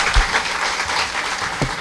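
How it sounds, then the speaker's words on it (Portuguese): Brief burst of audience applause at a spiritist lecture, many hands clapping together steadily and fairly loud, heard from within the crowd. "palmas para ela"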